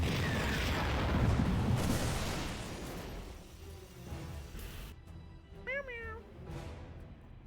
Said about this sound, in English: There's somebody meowing all over the place here.